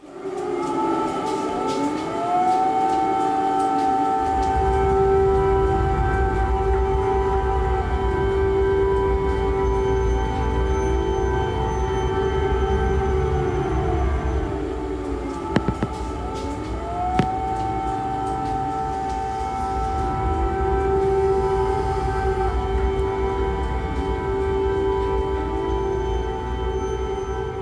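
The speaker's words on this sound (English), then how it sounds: "What you just heard is the sound of an air raid siren." A loud air raid siren in Ukraine wails continuously, its pitch rising and falling in long sweeping cycles over a low rumbling background.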